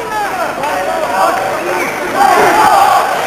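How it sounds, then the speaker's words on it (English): A boxing arena crowd chants for Mexico during a bout between Acelino Freitas and Juan Carlos Ramirez, a loud, dense roar of many voices that swells toward the end. "The chant is for Mexico."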